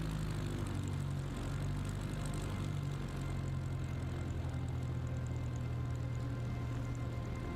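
A propeller airplane engine in a flight video game drones steadily and evenly throughout, a continuous low hum with no talking over it.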